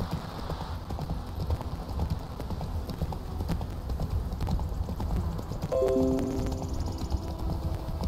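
Roach, a horse in The Witcher 3, galloping: steady rhythmic hoof clip-clops close by over a low rumbling bed, with a brief tonal sound rising near the end.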